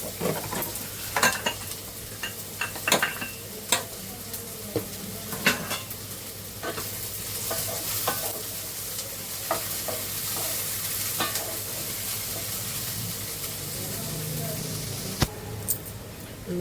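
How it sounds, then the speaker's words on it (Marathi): Onions frying in a little oil for a chicken keema dish, a soft continuous sizzle marked by intermittent scraping stirs of a spoon against the pan, with faint background speech. "असं कांदा शिजवून घेतला ना का आपल्याला तेल कमी लागते थोडस तेल टाकले"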